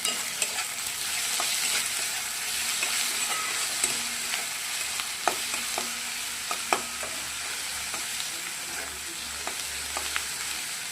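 Onions frying in a pan with salt and green chillies, a continuous close sizzle broken by repeated sharp scrapes and clinks of a spoon stirring, steady and uninterrupted by speech.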